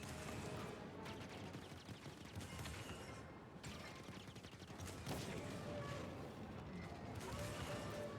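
Rapid, crackling blaster fire from the video game Star Wars Jedi: Fallen Order rattles on continuously, busy and distorted, with crashes and mechanical clatter mixed in at a low level.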